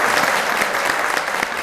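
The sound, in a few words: audience applause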